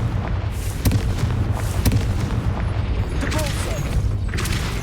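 Confringo explosive spell blasts in Hogwarts Legacy, a couple of sharp booming bursts spaced about a second apart over continuous rumbling battle ambience, with a few fainter magical whooshes later.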